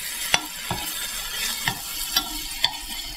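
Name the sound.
stirring a mixture cooking in a pan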